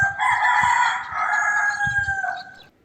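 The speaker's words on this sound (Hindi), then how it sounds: "मुर्गा कुकड़ू कूं" A rooster crows in one long, loud cock-a-doodle-doo lasting nearly three seconds. The call holds a sustained tone and then fades at the end, with no other sounds around it.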